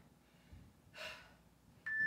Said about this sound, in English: We'll get our breathing back into a rhythm here.